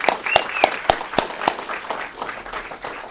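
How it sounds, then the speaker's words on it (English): A small group at an Aurora city council meeting claps for animal adopters and fosters, with sharp, distinct hand claps early on that thin into scattered, softer clapping in a quiet chamber. "Let's give them a round of applause for their hard work"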